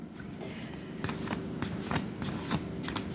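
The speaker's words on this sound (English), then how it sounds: "I've already shuffled these off camera, but I'm going to shuffle them again." Tarot cards being shuffled up close, a soft run of papery riffles and crisp clicks in irregular bursts.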